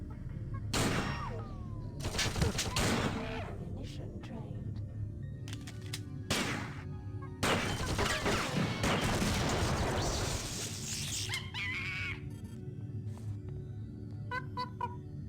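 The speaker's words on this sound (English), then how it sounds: "Yep, that is a turret. And it can shoot us from here." A security turret opens fire in System Shock 2, loud bursts of gunfire repeating in clusters over a humming background, with a voice talking between and over the shots.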